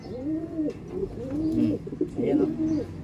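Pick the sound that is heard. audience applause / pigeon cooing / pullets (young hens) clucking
pigeon cooing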